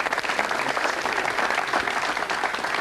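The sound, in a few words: studio audience applause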